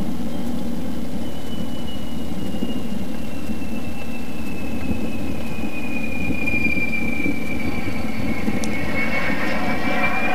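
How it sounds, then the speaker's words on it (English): A Fouga 170 jet engine spools up to takeoff power, a loud, steady roar with a high whine that slowly drifts in pitch across the whole stretch. No voices. "Then we add power again, and we're soon airborne again"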